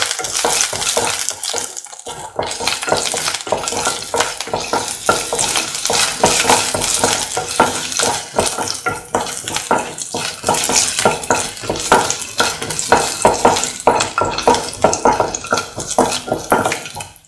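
Garlic and ginger fry in hot oil while a utensil keeps scraping and stirring the pan, a loud, busy crackling sizzle with constant rhythmic clatter close up and no talking.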